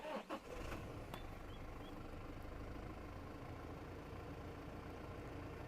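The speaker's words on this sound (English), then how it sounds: "The engine does sound a little bit rattly and a bit noisy when it's cold" A Toyota Prado diesel engine idles cold with a steady, slightly rattly and noisy drone after a few brief knocks at the start, heard alone without talk.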